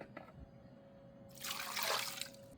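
Water poured into an Instant Pot holding food about to be pressure cooked, a faint hum and small clinks first, then a brief rushing splash of liquid about a second long.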